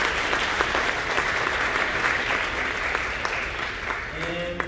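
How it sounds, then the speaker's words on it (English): Audience applause at a middle school concert for sixth-grade band players, a sustained crowd of clapping hands with a few sharper individual claps standing out, fading slightly near the end as a brief tone sounds. "Give them a round of applause."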